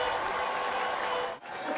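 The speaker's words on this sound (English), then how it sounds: "the crowd is losing it here in Sacramento" A stadium crowd at a USL Championship soccer match in Sacramento roars after a goal, a loud, sustained wash of cheering that briefly dips near the end before surging back.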